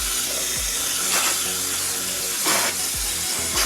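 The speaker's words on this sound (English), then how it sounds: "on these, it's always really good to spray from the inside out" Water sprayed from the inside out through a dirty air conditioner unit makes a loud, continuous hiss that rises into a few brief surges.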